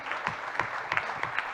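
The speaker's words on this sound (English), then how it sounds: "Can we clap our hands for ourselves?" An audience applauds at the closing session of the Wiki Indaba 2022 conference, a steady burst of many hands clapping together with no talking over it.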